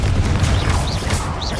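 A Confringo explosive spell in Hogwarts Legacy, a loud booming blast with crackling debris and whooshing magical trails, heavy and close, running a second or two with no voice.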